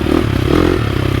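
A 2023 KTM 350 SX-F dirt bike runs in first gear on slow technical terrain, its engine a steady, loud mid-pitched drone with a light rattling clatter, close by and alone without talk.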